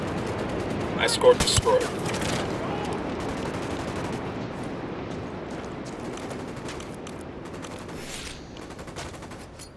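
Rapid bursts of gunfire in the video game Ghost Recon Wildlands, a sharp volley at first easing into a sustained rattle of shots, with a voice speaking briefly over the firefight.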